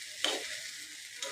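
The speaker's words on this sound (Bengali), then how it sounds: "পোলাওটা আসলে যত বেশি ভাজা ভাজা হবে" Polao rice fries in a pan, a soft continuous sizzle with a couple of brief scraping stirs, close and fairly quiet.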